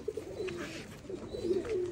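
Pigeons coo softly nearby in a few low, rolling calls, with faint background noise and no talk.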